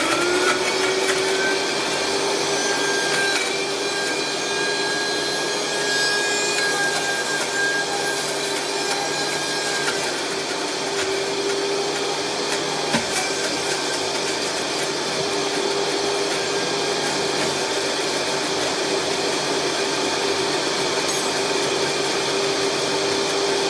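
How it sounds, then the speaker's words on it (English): A powerful Vitamix blender blends a frozen fruit shake with almond milk, roaring loudly and steadily up close for over twenty seconds without pause. "A Vitamix is a little different from a blender. It's stronger."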